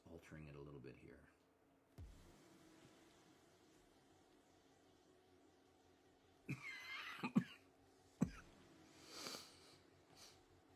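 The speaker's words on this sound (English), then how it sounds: "it's not a stream unless I allergy cough, right?" Allergy cough from a streamer drawing a superhero during a live stream, a few short harsh coughs near the microphone after a quiet stretch, with voice sounds at the start.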